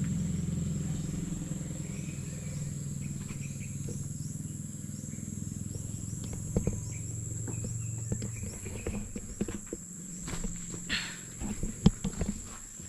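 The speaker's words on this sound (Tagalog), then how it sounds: "dumadaan ng motor." A motorcycle passes by near a cemetery: a faint, low engine drone for several seconds that then fades, with insects chirping in the background and a few light knocks and rustles.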